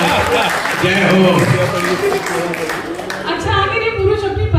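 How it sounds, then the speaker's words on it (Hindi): Audience clapping at a Hindi comic poetry show, a dense, loud burst of applause mixed with voices and cheering throughout the short stretch. "बहुत बढ़िया, तालियां बजाओ"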